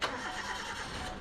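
The petrol engine of an army 4x4 truck catches on the first try and settles straight into a steady running drone, heard briefly and up close.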